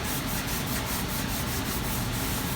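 Fine 600-grit sandpaper is rubbed by hand over a Ducati part, giving a close, steady scratchy hiss with quick rhythmic back-and-forth strokes and no talking.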